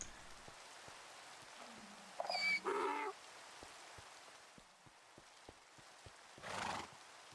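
A Minecraft horse whinnies and snorts in two short bursts over a light rain-like patter, with faint soft taps spaced through the background.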